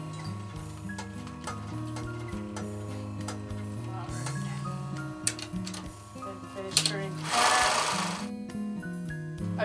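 A sewing machine stitches through a quilted pot holder in bursts of rapid mechanical ticking, pausing and restarting, close up with some quiet talk in between.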